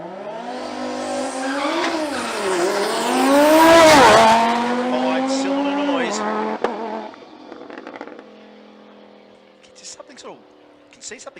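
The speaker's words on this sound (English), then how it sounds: "This is Daniel Deo, the Audi. Let's have a listen to this thing." Audi drag car at a sports compact drag racing meet in Brisbane launching hard with a screaming engine that revs through several gear changes, peaking loud, then fading down the track, with voices and crowd noise afterward.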